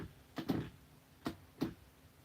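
Atari USB fight stick joystick snapping back to center, a few sharp, close plastic clicks in quick succession and then two more spaced taps, with a quiet background between them.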